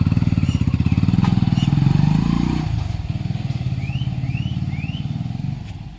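Motorcycle engine running without a spark plug, a close, loud, rapid chugging idle that pulses steadily then shifts down to a lower, rougher putter, with faint bird chirps in the background.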